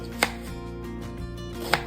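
Two sharp knife chops through onions strike a cutting board about a second and a half apart, with a quiet low hum between them.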